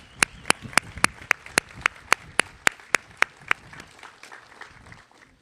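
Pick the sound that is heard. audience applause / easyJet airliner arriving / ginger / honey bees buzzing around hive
audience applause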